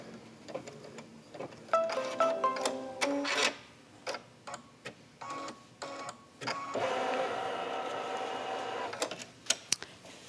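A sewing machine stitching fabric for a couched pillow runs in short bursts of rapid mechanical whirring and ticking, then settles into a longer continuous run before stopping with a few clicks.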